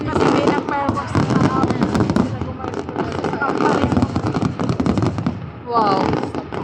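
Fireworks in Macau pop and crackle continuously in a dense, noisy barrage, with excited voices talking and exclaiming over the bursts.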